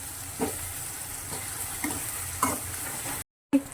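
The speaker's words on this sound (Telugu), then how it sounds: "ఉల్లిపాయ, పచ్చిమిరపకాయ ఇవన్నీ ఇలా ఫ్రై అయిపోతున్నాయి కదా" Onion and green chillies frying in a pan for a dondakaya (ivy gourd) fry, a steady soft sizzle with a few faint stirring scrapes, no voices.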